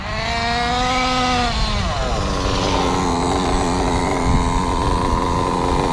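A Kyosho Inferno NEO 3.0 nitro RC buggy engine, still being broken in, buzzes loudly and close, its whining pitch sweeping up then dropping and settling into a steady high drone.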